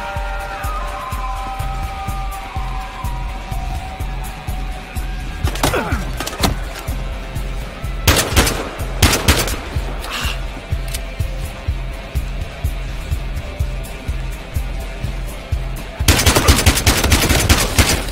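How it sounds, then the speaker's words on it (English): Battlefield Hardline hotel shootout: sharp bursts of automatic gunfire and single cracks, moderately close, punctuated by gaps, ending with a sustained rapid volley; no talking heard. "Tell that to the asshole shooting up the place."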